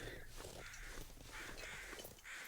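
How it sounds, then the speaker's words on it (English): Crows cawing in the video game The Long Dark, a run of repeated harsh caws spread across the moment over a steady wind-like backdrop, moderately distant and without talk. "We do hear crows"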